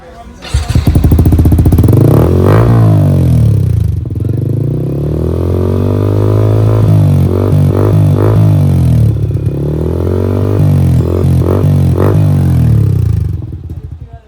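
A Yamaha MT-15 motorcycle with an aftermarket full-system exhaust revs hard and loud through a throaty exhaust, with repeated throttle blips and a brief pause between bursts.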